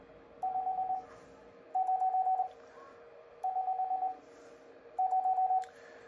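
Four evenly spaced bursts of a steady electronic tone, Morse code keyed on a semi-automatic bug at about 20 words per minute, each under a second, with quiet gaps and a faint hiss underneath.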